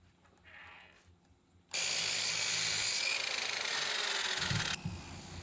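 A power saw cuts pieces of wood to length against a stop block, with a loud, steady cutting roar of about three seconds after a quiet lead-in, then a drop to a lower whir as the blade winds down.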